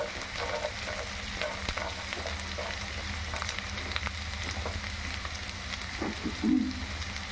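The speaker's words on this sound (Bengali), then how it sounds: "বড়িগুলো একটু লাল করে ভেজে উঠিয়ে রাখবো।" Lentil dumplings (bori) fry in a pan with a soft, steady sizzle and hiss, with an occasional stirring clink, all fairly quiet.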